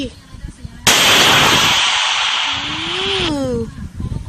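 An RPG launcher fires in a modded Minecraft game, giving a sudden loud blast that trails into a long rushing roar before fading, while a voice talks.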